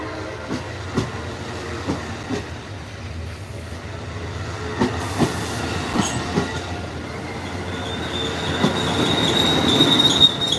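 An Amtrak California Zephyr passenger train arrives at the Ottumwa, Iowa station stop, with rhythmic wheel clatter over rail joints, then a high, thin wheel squeal building near the end as it slows.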